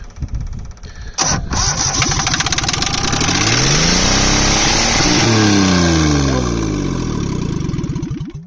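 A Perkins 103-10 diesel engine repowering a Cushman Truckster cranks with a sharp click, then catches and runs loudly and roughly, its pitch rising and settling close by.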